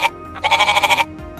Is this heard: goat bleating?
yes